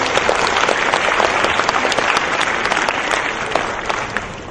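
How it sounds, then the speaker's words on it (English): A large audience applauds at an awards ceremony and valedictory function in India. The clapping is dense and steady, with no voices over it, and it holds at an even level for the whole stretch. "special clapping hands should also go to Professor Shankar"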